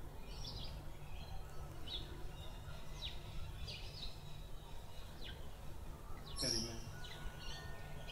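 Several birds chirp and call back and forth at a distance, short bright calls scattered over a steady outdoor hiss, with a louder call near the end.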